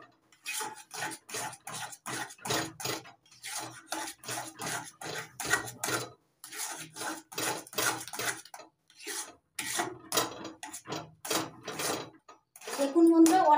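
An orange and cornflour mixture stirred continuously in a pan, giving repeated short scraping and rubbing strokes in a steady rhythm with brief pauses, close up and fairly soft.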